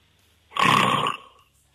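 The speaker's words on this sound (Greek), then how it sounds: "Ελπίζω να είναι πιθανάτιος ρόγκος αυτός και όχι ροχαλιτό." A single loud snore-like rasp from a person lasting about half a second, rough and guttural, standing alone with no talk over it.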